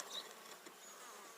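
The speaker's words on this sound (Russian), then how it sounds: "пчелы на южной стороне более активные" Honey bees buzz at a hive entrance on the south side of a bee farm in spring, a continuous close, quiet drone with no voices.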